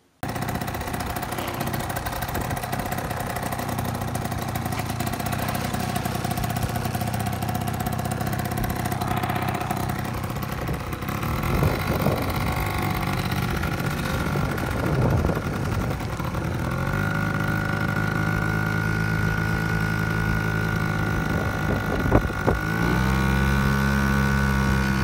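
A 1986 Honda Spree 50cc two-stroke scooter buzzes steadily while being ridden, loud and close throughout, its pitch rising and falling with the throttle and no voices over it.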